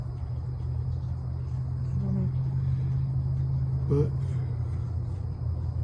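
Low, steady engine rumble from a distant drag strip, droning through the background beneath brief casual talk.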